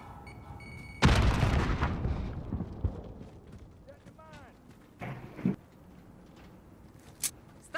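A grenade detonating in Call of Duty: Modern Warfare multiplayer, one sharp loud blast followed by a decaying rumble, then scattered quieter shots and impacts with voices in the background.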